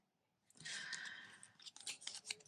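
Scissors snipping around hand-colored paper leaves for a stamped card, a few quiet, close crisp cuts in quick succession after a brief silence.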